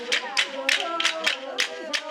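A group of grandmothers at Kapasseni clapping in a steady rhythm, about three sharp claps per second and evenly spaced. Singing voices carry along underneath the claps, close and fairly loud.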